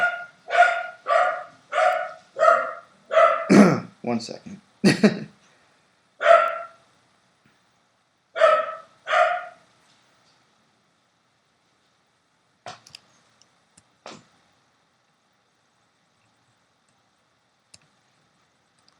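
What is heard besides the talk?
dogs barking in the background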